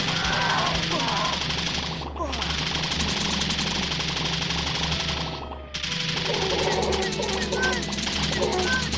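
Dense rapid gunfire from the State of Anarchy video game, continuous bursts of shooting at hordes of alien enemies and a giant boss creature inside a bank, loud and relentless with brief gaps, layered over game music and effects.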